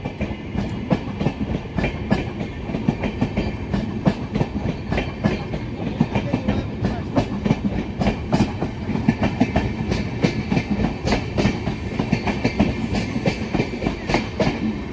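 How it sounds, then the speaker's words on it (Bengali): The long Tebhaga Express, with ICF and LHB coaches, pulling out of New Farakka Junction, its wheels beating a steady, loud clickety-clack close by as the carriages roll past. "বেরিয়ে গেল Tebhaga express new Farakka junction থেকে, রামপুরহাটের পথে বর্ধমান হয়ে কলকাতা যাবে।"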